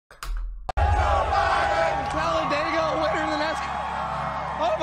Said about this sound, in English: As you can hear the chants from the, the crowd, let's go, Brandon.